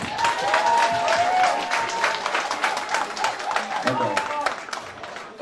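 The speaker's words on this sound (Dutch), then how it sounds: "Eigenlijk zou ik nog één keer een hard applaus houden voor Luna," Loud, dense applause from the crowd at a carnival prince candidate election night, honoring Luna, sustained clapping mixed with cheering and crowd voices throughout.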